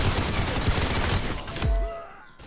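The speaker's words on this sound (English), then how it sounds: "just put a grenade launcher." Grenade launcher firing in a video game: a dense, loud rattle of rapid shots and blasts, ending in a heavy boom that decays into a ringing tail.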